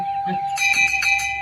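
A bell ringing in a school setting, a bright sustained tone with a few struck repeats, loud and close over a brief stretch of voices.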